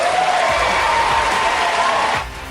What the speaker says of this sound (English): That cheering and applause continued uninterrupted for at least 15 minutes.